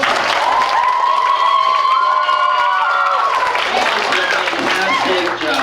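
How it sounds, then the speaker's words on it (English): A crowd of children at a school Battle of the Books event applauding and cheering, with loud, dense clapping mixed with high excited voices and shouts, sustained and close. "give yourself a round of applause"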